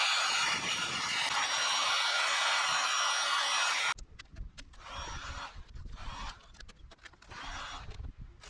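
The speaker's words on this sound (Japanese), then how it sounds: "240番のサンドペーパーで削ります。" 240-grit sandpaper scrubs over car paint, first as a steady, loud hiss for about four seconds and then as rhythmic back-and-forth rasping strokes, close up with no voices.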